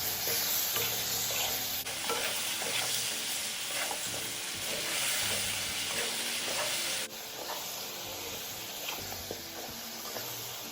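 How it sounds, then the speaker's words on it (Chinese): Three tablespoons of light soy sauce poured around the edge of a hot wok over pork ribs, setting off a loud, continuous hiss and sizzle that surges sharply for a few seconds then eases back, with faint scraping and no voices. "接下来再将备好的生抽3大匙，沿着锅边倒入，呛一呛鑊气"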